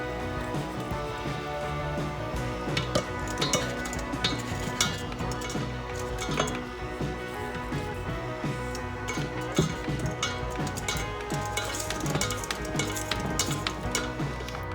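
Ginger molasses cookie dough with molasses and egg is mixed in a bowl, a steady run of close clinks, taps and scrapes of a utensil against the bowl, with no voices.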